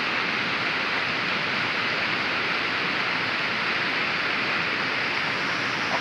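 Heavy rain pours down in a village with water flowing, a dense, constant rushing hiss that stays loud and unbroken throughout.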